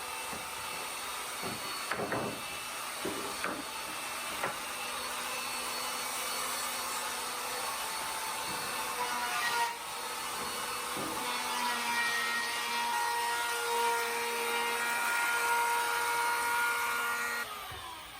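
A router with a chamfer bit runs along plywood strip edges, a sustained high whine with shifting cutting tones and a few bumps, loud and close throughout.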